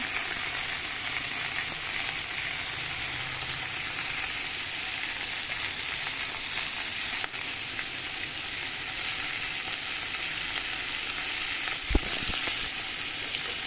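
Onions and coriander fry in a pan with a steady, dense sizzle and hiss throughout, close and even, with a brief clatter near the end and no one talking.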